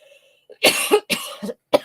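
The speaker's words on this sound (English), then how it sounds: "Got that cough again" A few harsh, close coughs in quick succession, with a brief faint voice sound just before them.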